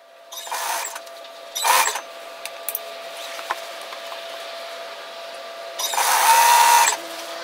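Domestic sewing machine back-tacking and then stitching a seam down to the hemline of a robe, three separate loud runs of whirring stitches with quieter gaps between.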